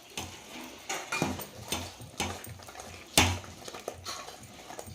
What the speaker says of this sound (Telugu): కొబ్బరి ముక్కలు వేసి బాగా కలుపుకోవాలన్నమాట.